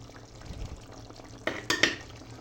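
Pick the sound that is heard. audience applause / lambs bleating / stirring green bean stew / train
stirring green bean stew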